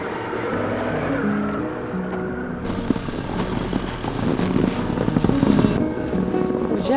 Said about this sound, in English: it was finally time to make an attempt to drive the car out onto the road